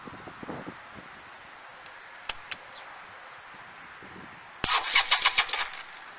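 A rebuilt rat bike motorcycle, its newly wired starter button pressed, gives a brief starter whir and a few sputtering firing bursts near the end after quiet rustling, close and fairly loud.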